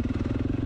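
A 2020 KTM 450SXF motocross bike's four-stroke engine runs close and steady, a loud low throbbing pulse with a fast, even firing rhythm and no other sounds.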